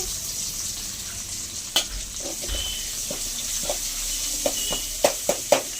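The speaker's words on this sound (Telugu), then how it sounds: "ఆ ఆయిల్లోనే మనం ఇప్పుడు ఎండుమిరకాయలు తెల్లగడ్డ పచ్చికరివేపాకు ఇవి కూడా వేసుకొని దోరగా వేయించుకోవాలి" Dried red chillies, garlic and fresh curry leaves fry in oil with a steady sizzle, broken by a few sharp clinks of a spoon stirring the pan.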